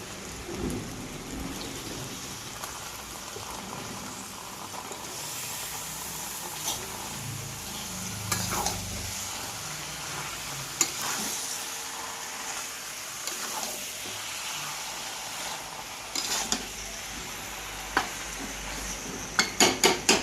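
Washed chicken pieces fry in a cooked-down spice paste with released oil, giving off a continuous dense crackling sizzle. Occasional louder clatters break through, with a quick cluster of sharp pops near the end.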